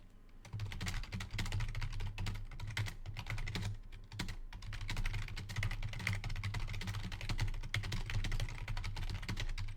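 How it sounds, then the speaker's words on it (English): Rapid computer keyboard typing, clicking steadily and close up for nearly ten seconds, broken by a few brief pauses, with a low hum underneath during an online Modern card game match. "I was typing to my opponent"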